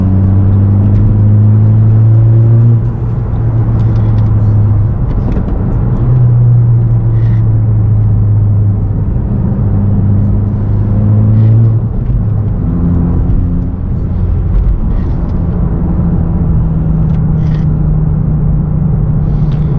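A 2017 Honda Civic Si engine hums steadily from inside the moving car, a low rumbling drone with slight shifts in pitch as it drives along.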